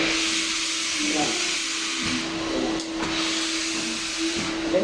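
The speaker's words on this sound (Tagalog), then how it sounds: "Ganyan ang pag-vacuum sa tubig." A wet vacuum cleaner sucks up water from a floor, giving a steady loud hiss and whine with a constant motor hum that continues throughout.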